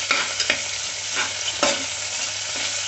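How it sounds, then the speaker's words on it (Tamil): Coriander and mint leaves frying in oil for coconut milk rice, a close continuous sizzle with several sharp scraping stirs of a spoon against the pan, with no talking. "இந்த மல்லி புதினாவுமே வந்து நல்லா இந்த எண்ணெயில் ஃப்ரை ஆனால் தான் உங்களுக்கு நல்ல மணம் சூப்பராக கிடைக்கும்"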